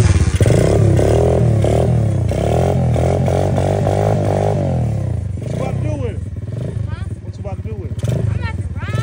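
A 125cc Xmotos motorbike engine cranks and revs loudly and close by, its tone rising and falling in repeated bursts, with voices mixed in.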